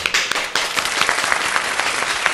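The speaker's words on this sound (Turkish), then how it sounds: "değerli genç kardeşlerime bir arka fondan kocaman alkış istiyorum" A market crowd gathered around a bread-making stall applauds, a steady burst of clapping that runs loud and dense throughout with no voices on top.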